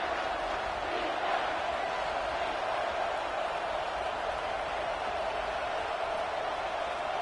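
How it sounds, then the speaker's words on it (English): A packed football stadium crowd at an Oklahoma vs LSU game roars continuously at a steady, loud level, a dense wash of cheering with no breaks. "the noise from this crowd on 3rd and 4"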